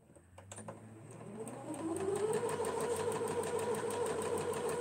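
A sewing machine runs while stitching quilt block pieces, starting with a few faint clicks and then building into a steady, fairly quiet whirring hum.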